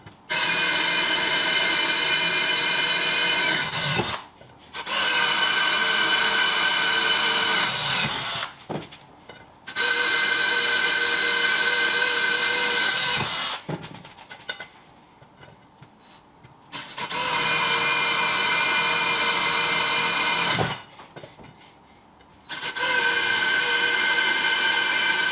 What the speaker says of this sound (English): Right, so let's get the holes drilled.